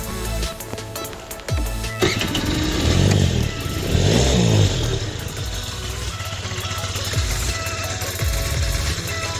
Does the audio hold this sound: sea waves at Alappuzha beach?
no